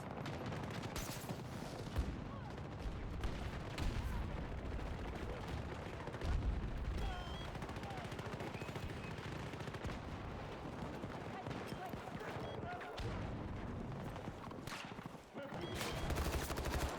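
A grenade and gunfire erupt in the shooter game Battlefield 2042, with dense rattling bursts, booming blasts and continuous battlefield clatter throughout, and shouted voices mixed into the chaos.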